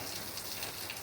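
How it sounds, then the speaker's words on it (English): Morning rain comes down hard in Montego Bay, Jamaica, a dense, even hiss of drops on surfaces that stays steady and fairly quiet throughout, with no one talking. "it is raining cats and dogs"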